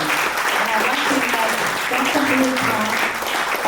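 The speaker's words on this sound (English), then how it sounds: "Please give a round of applause to Chloe Bryan" A round of applause at an interfaith anniversary gala honoring an award recipient, steady crowd clapping heard alongside voices and some room chatter throughout.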